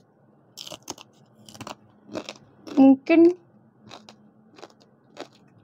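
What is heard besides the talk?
crunchy chewing of fried intestine satay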